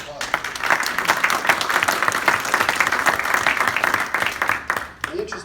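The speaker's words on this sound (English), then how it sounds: "Have a round of applause." A round of applause at a Rotary club presentation, a dense, even clatter of many hands lasting several seconds at moderate loudness before it tapers off.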